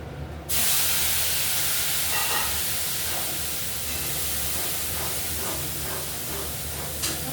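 Spices for a Bengali charapona fish curry hitting hot oil with kalonji, bursting into a loud, steady, close sizzle that starts abruptly and holds throughout without speech.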